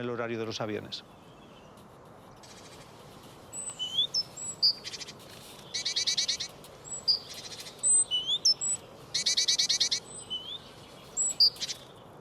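Tits sing repeated bright, high trilling phrases early in the morning over steady background hiss, the bursts coming in clusters after a brief voice at the start.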